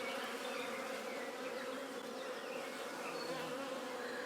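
Honey bees buzz steadily in a dense, continuous drone while an open hive is being inspected, with no voices heard.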